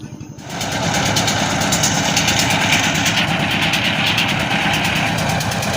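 A trawler boat's engine idles on a river crossing, a steady, loud mechanical chug with a buzzing rattle that starts abruptly after a brief quiet moment and holds evenly to the end.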